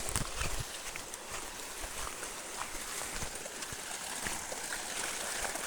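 Water flowing in a seasonal river during the rainy season, a constant broad rushing and trickling that is fairly quiet and continuous, with no voices.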